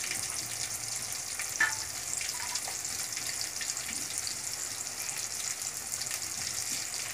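Fish frying in hot oil, a continuous soft sizzle with a faint clink partway through, no talking.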